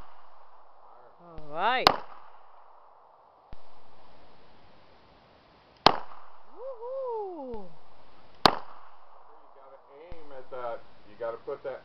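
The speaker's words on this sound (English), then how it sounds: "Aim it on those cans. Gently pull the trigger." Sharp gunshots fired at cans at an outdoor target spot, three loud cracks spaced a few seconds apart, each with a decaying tail, while someone talks and gives instructions between the shots.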